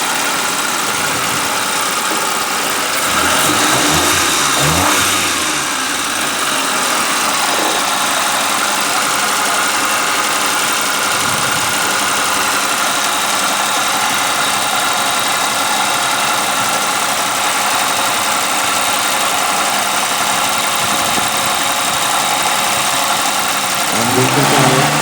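A Suzuki Mehran car engine idles with a fault and noticeable vibration, a steady, loud mechanical hum and rattle that holds for the whole stretch, with a brief rise in revs early on.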